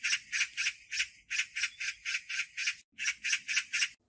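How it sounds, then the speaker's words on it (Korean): A magpie in a tree gives harsh, rhythmic chattering calls repeated in quick bursts, loud and close, with a brief pause before the rattling resumes. "옆에 있던 나무 위에서 산까치 우는 소리가 들리는 게 아니겠습니까?"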